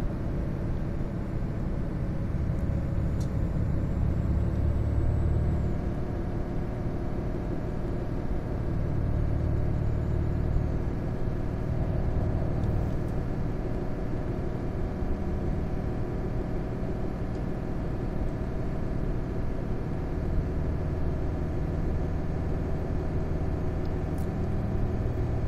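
Engine of a Volvo truck droning steadily after a downshift, higher revs holding a continuous low, rumbling roar that runs close and loud with no break.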